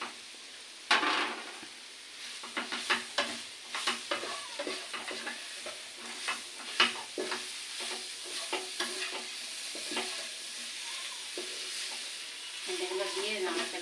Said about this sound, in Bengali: লঙ্কা দিলাম, ভেন্ডিগুলো দিয়ে দিচ্ছি।